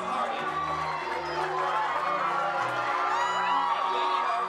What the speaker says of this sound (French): C'est la tête haute que les cadets défilent sous les acclamations de leurs proches.